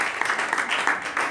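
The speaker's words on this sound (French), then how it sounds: "Acclamons pour ma fille Vitrice." A church congregation applauds during a service, a brief burst of close, dense clapping that continues steadily without pause.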